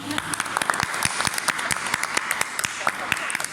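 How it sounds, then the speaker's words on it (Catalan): Applause from a small group of interviewers at the close of a telephone interview, sharp irregular claps repeating steadily for a few seconds at moderate closeness, with a faint voice under them. "I ara és que estem així, anem a aplaudir."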